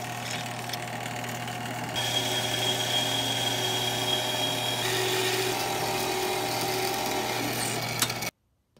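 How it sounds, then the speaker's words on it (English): A bandsaw trims a small sliver off a bushing: a steady, near machine drone with a constant hum that grows slightly louder about two seconds in, then cuts off abruptly near the end. "I put one of the bushings in the bandsaw to cut off a little sliver"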